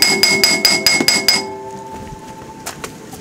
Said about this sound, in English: it's time to take a hammer to this bad boy